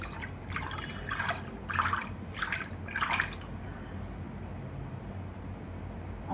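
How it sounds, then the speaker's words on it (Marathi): Spiced buttermilk (mattha) sweetened with sugar is churned in a bowl, giving about five quick rhythmic sloshing splashes up close before the liquid settles into quiet. "परत घुसळून घेऊ आपण."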